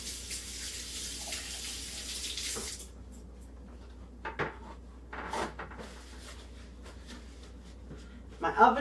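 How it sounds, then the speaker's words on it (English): Hands being washed under a running kitchen tap, a steady hiss of water that stops after about three seconds, followed by a few soft knocks and small clatters. "Wash my hands off."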